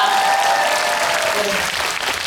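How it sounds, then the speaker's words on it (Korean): Audience applause fills a cinema at a Korean film star's live talk event in Yeongdeungpo, a dense, steady clapping that holds loud and even throughout, with faint tonal ringing above it. "박수 부탁드립니다."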